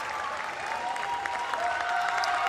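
A crowd applauding and cheering steadily at an artistic gymnastics World Challenge Cup event final in Koper, a sustained wash of clapping in a large arena.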